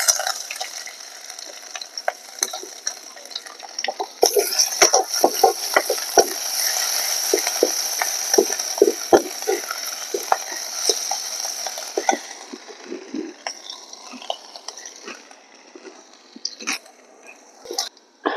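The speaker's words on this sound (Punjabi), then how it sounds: "ਰਿਫਾਇੰਡ ਗਰਮ ਹੋ ਗਿਆ। ਹੁਣ ਆਪਾਂ ਜੀਰਾ ਪਾਵਾਂਗੇ। ਥੋੜਾ ਜਿਹਾ ਅਦਰਕ ਕੁੱਟ ਕੇ ਰੱਖਿਆ ਹੋਇਆ" Cumin seeds and crushed ginger crackling in hot refined oil in a village kitchen pan, a dense hiss of sizzling dotted with sharp pops and stirring clicks that gradually fades.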